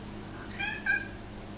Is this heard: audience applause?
no